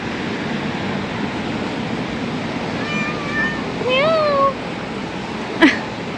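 A cat meows twice on an evening street, a short call then a longer rising-falling one, over steady rush-hour traffic rumble, followed by a brief sharp squeal.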